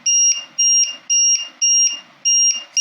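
A loud, piercing two-tone electronic low-voltage alarm buzzer on a LiPo battery checker beeps in a steady repeating pattern, about six sharp pulses with brief gaps, close and alone.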